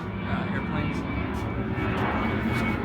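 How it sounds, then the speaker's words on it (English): Airplane passing overhead in San Jose, a steady broadband engine roar sustained throughout at moderate distance, with faint background voices. "In San Jose, we have airplanes."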